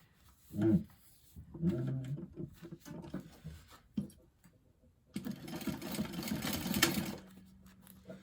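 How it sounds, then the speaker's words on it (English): Sewing machine top stitching the seam under the bottom piece of a fabric bag, short stop-start runs of mechanical whirring and clicks, then a longer steady stitching burst, fairly quiet and close. "I'm going to now top stitch the seam under the bottom piece of the bag."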